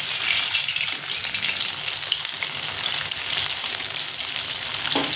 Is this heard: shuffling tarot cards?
no